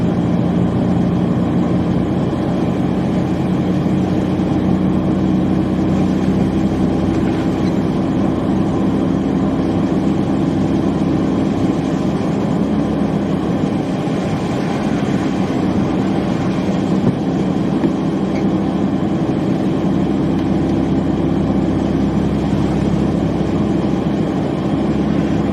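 A car engine with a loud exhaust rumbles steadily at close range for the whole stretch, a deep continuous drone with no break or clear change in pitch.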